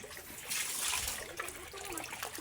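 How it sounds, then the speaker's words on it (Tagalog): Water is poured out for pigs in a farm pen, a steady soft splashing and trickle that runs the whole short stretch at low volume with no talk over it. "Lagyan natin ng tubig mga kababoy."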